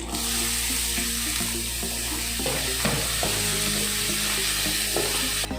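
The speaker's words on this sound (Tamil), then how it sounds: "வெங்காயத்தை நம்ம ஆட் பண்ணிப்போம்" Onions sautéing in a pan for prawn gravy, with a steady close sizzle and occasional stirring scrapes throughout, loud and continuous with no talk.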